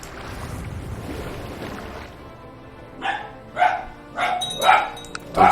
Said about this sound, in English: Dog's barking a fair bit today.